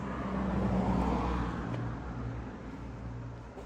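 A sports car with very big exhausts idles close by, its engine and exhaust giving a steady, even low rumble for the whole stretch with no one talking.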